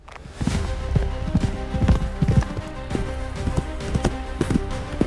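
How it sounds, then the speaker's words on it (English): Rapid, rhythmic hoofbeats of horses galloping, loud and close, with a continuous drumming clip-clop throughout. "need horse galloping sounds, just type in horses galloping"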